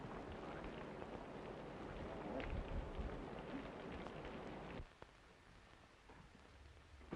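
A heavy rain storm beats down outside a house, a dense, steady roar of rain and wind that suddenly drops to a quieter, thinner wash for the last couple of seconds, with no talk.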